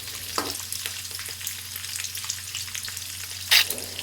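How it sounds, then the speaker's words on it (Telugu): Cashew nuts frying in hot oil for pulihora, producing a steady crackling sizzle with a few stirring scrapes and a brief louder burst near the end. "జీడిపప్పు మనకు తొందరగా వేగిపోతుంది"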